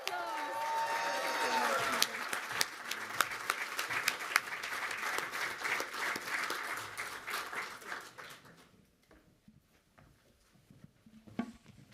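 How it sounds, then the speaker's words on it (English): An audience at an annual lecture event on re-globalization and the African diaspora applauds in a sustained wash of clapping for about eight seconds, then it fades out, leaving near silence with a few faint sounds. "Another round of applause."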